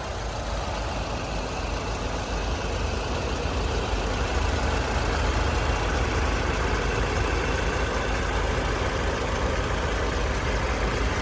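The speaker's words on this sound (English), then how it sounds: "so I do have the car running as well" A 2014 Peugeot 4008 car engine idles steadily and continuously, a close, even running drone with no talking over it.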